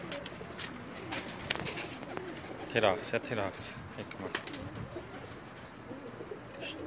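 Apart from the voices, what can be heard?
shikra breed pigeons cooing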